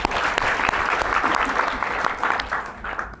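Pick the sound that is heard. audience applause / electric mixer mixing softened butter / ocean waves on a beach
audience applause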